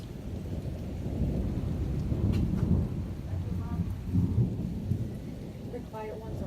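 During a thunderstorm, deep rumbling thunder rolls continuously under steady rain, with swells of heavier rumble and faint voices near the end.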